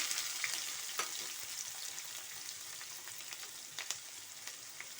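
Onions sizzle and crackle in hot oil for tempering, a steady hiss dotted with sharp pops and the occasional stir, close up with no talking.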